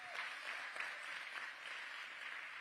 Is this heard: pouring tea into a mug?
no